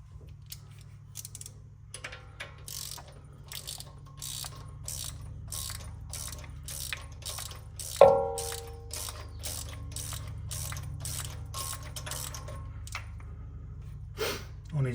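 Ratchet wrench installing new gasket-seat spark plugs in a Kawasaki Mule 4010, close rapid clicking strokes repeated steadily throughout, with one sharper metallic clank midway and a little low background hum.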